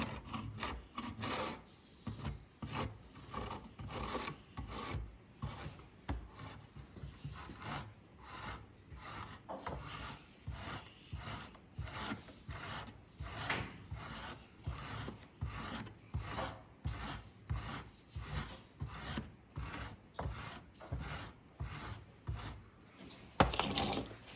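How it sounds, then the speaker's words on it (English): Rasp filing down a wooden spacer clamped to a workbench, heard as quick repeated rasping back-and-forth strokes in a steady rhythm, close and fairly quiet, with no talk. "I'm going to take a rasp and just ever so gently thin it down"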